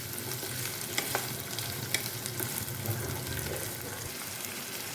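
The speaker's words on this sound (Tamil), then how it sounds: "வெங்காயத்தை போட்டுடலாம். வெங்காயம் நல்லா வதங்கட்டும்." Chopped onions sautéing in oil in a frying pan for fried masala idli, with a steady close sizzle and occasional stirring clicks throughout and no talking.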